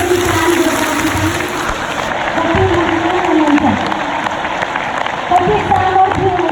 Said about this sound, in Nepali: सर्वशक्तिमान पितालाई एकपटक मनदेखि ताली बजाउनु